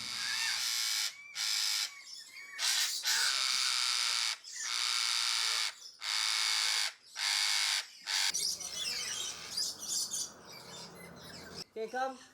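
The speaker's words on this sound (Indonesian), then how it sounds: "Kicauan burung di satu tempat dalam Adventure Park akan menjadi jawaban dari pertanyaan kami." Birds chirp and call in the bird garden of an adventure park in Port Moresby, bursts of bright twittering repeating steadily with brief pauses, then a busier stretch of mixed calls near the end.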